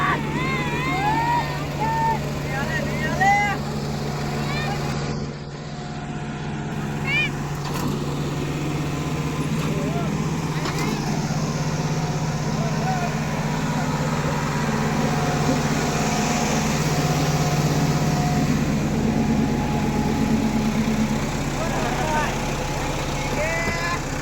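John Deere 5210 and Kubota tractors in a tug of war, their engines holding a steady droning hum under frequent talk from people nearby.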